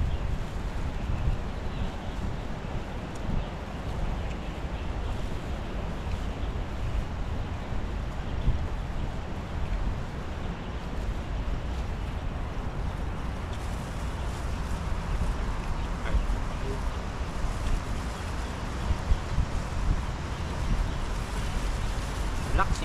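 Steady wind roars and buffets outdoors for the whole stretch, a continuous broadband rush with no pauses.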